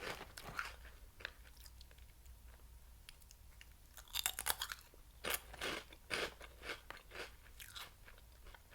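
Crunchy snack straws chewed close to the mic, a run of sharp irregular crunches and bites that grows denser and louder midway, with no talking.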